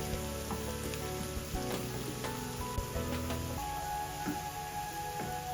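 Garlic and onion frying in hot oil for a homemade chilli paste, a steady close crackling sizzle with scattered sharper pops and no talking.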